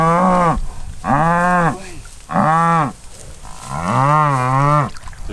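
Cows mooing beside a river, four long, loud, drawn-out calls from close by, each rising and then falling, with short pauses between them and no talk.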